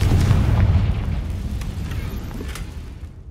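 A blasting spell explodes in a deep, loud boom that rolls out and slowly fades over a few seconds.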